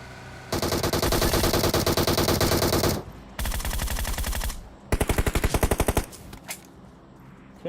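Sustained bursts of automatic gunfire in the mobile shooter Battlegrounds Mobile India, loud and close, coming in three long rapid-fire strings separated by short gaps, with a few scattered shots trailing at the end.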